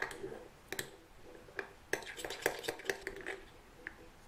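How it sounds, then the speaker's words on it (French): Glue is stirred in a container to make slime, giving a string of soft, irregular clicks and scrapes of a utensil against the sides, close and quiet. "Et je vais mélanger."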